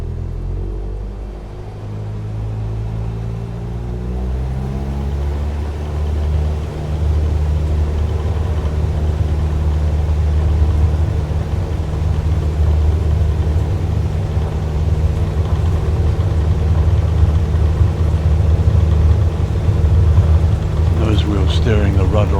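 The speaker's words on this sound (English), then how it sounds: "There we go, nice smooth takeoff." A bush plane in a flight simulator takes off, its engine a steady, loud low rumble that swells as it gathers speed and holds a broad roar throughout, with a voice talking over it.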